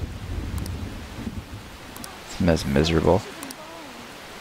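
Steady rain in the Persona 5 video game, a soft hiss with low rumbling noise throughout, heard under a short spoken line.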